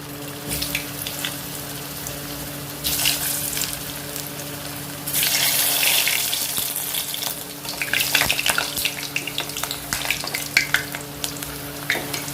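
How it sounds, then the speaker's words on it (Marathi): Potato pieces fry in well-heated oil, a dense, steady hiss of sizzling that swells louder about halfway through and then crackles unevenly, with a faint low hum underneath and no voices. "आपण आता याच्यामध्ये बटाटे तळून घेऊया"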